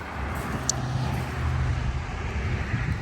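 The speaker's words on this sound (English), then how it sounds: "I really hope you guys can hear me all over all of the cars" Steady road traffic rumbles nearby, a continuous wash of passing cars with no voices.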